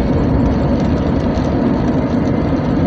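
Chevrolet Astro engine running after an intake manifold gasket replacement, heard from inside the cabin on a test drive: a loud, steady low rumble with vibration and no break, no voices.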